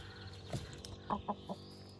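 A broody hen clucks in short, separate bursts, several soft calls spaced irregularly over steady low background noise, close by.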